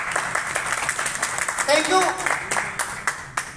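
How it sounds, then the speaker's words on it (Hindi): Scattered audience clapping at a network marketing core meeting in Lucknow, moderately loud and uneven, running under someone speaking briefly before tapering into a few isolated claps. "जोरदार ताली बजाइए सर के लिए"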